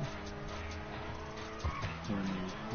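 A car drifting in the video game GTA 5, with a steady engine drone and squealing, skidding tyres swelling near the end.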